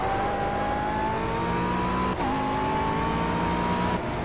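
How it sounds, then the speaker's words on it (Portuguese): A blue McLaren 12C GT3 race car engine in Project Cars on the Nordschleife drones at high revs, rising steadily in pitch, dipping briefly at a quick gear change, then climbing again, loud and continuous. "E essa McLaren toda azul, é rapaz, a McLaren 12C GT3. O som dessa McLaren"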